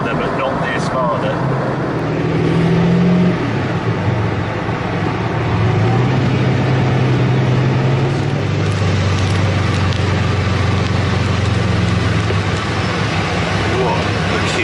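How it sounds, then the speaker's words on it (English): Two Lamborghini Miura SV V12 sports cars driving ahead in a convoy on a Rome tour, a continuous engine drone with rising and falling pitch sweeps amid road noise, voices talking over it. "We're following two Miura SVs at the moment."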